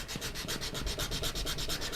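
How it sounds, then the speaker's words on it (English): Steady rhythmic rasping of sandpaper on a wooden guitar bridge, short even strokes repeating quickly and close up. "I will finish sanding a couple more contours in on the front"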